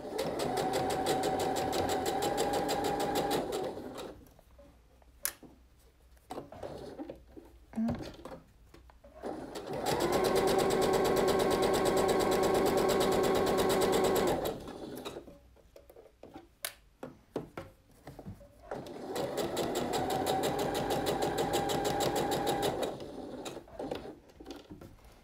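Sewing machine stitching a hem on a blouse, running in three sustained bursts of a few seconds each separated by pauses, close and clear, with a voice speaking between runs.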